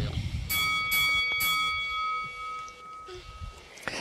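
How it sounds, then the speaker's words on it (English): A wrestling-match bell rings in the Second Life video game, several bright metallic strikes about half a second apart, with a sustained ringing tone, over low background talk. "And there's the bell."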